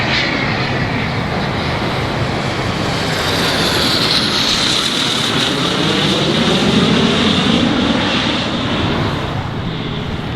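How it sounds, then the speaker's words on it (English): An airplane roars overhead at an outdoor equipment expo, a loud, steady engine drone sweeping past for the full stretch and drowning out everything else. "Planes flying over"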